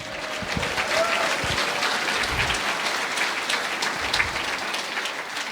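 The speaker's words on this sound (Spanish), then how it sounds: "fuerte aplausos sa Iglesia de Cristo" Applause from a church congregation in Sucre, Bolivia, a steady, moderately loud crowd clapping with faint voices and low thumps mixed in.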